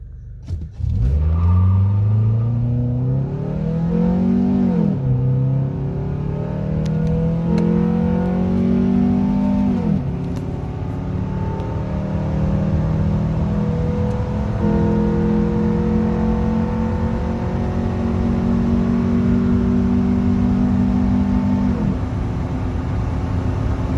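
A 2005–2006 Nissan Altima with the QR25DE engine and bolt-on intake and exhaust mods accelerates hard, its loud engine note rising through repeated gear pulls over a steady rumbling drone, with no talking.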